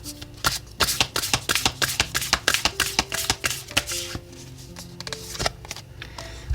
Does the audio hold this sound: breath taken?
no